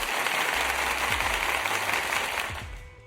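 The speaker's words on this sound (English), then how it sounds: "Just gave you a round of applause there" A round of applause, many hands clapping together in a dense, steady patter that fades out toward the end.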